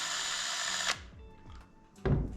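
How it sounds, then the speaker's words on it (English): Power drill fitted with a sanding attachment works against wooden cigar rests in two close bursts: a loud steady whine that cuts off, then a rougher grinding burst as it touches the wood. "I'm just going to use this attachment for my drill."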